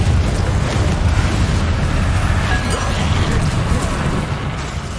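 A Confringo blasting spell goes off in Hogwarts Legacy with a loud, rumbling explosion that fills the whole stretch in a dense, continuous roar and slowly fades.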